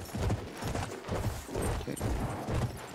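Horse hooves gallop in the Battlefield 1 video game, a fast, continuous, loud drumming rhythm with dense battle noise, no talk over it.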